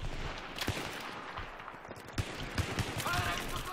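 Gunfire in the multiplayer shooter Battlefield 3, set in the Noshahr Canals map: scattered single shots and short bursts at moderate distance beneath continuous game ambience, with a faint voice present.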